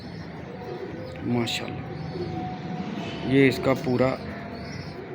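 A breeding female pigeon gives soft, low cooing near the microphone while someone talks over and between the coos.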